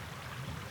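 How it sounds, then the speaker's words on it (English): Flowing water of a moorland stream on the Isle of Rum, a steady soft rushing wash heard alone for under a second, fairly faint and continuous. "Some flowing water here."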